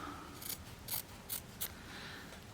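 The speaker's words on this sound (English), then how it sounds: "I'm going to trim the extra fabric on the inside to stop that bulk" Fabric scissors snip through excess quilt binding fabric in four short, crisp cuts spaced about half a second apart, close and fairly quiet against a soft room hiss.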